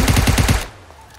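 Rapid automatic gunfire from PUBG Mobile, a close, loud burst of about five quick shots that cuts off abruptly and leaves a faint low rumble.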